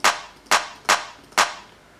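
A dry, unprocessed clap sample from an FL Studio Afrobeat beat hits four times in a slightly uneven rhythm, each one sharp, bright and quickly decaying, with nothing else playing.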